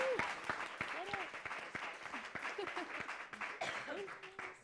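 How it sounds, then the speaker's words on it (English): Scattered audience applause after guests share their stories at a talk on higher education, fairly faint, with a whoop and cheerful voices over the clapping. "Let's give them a round of applause"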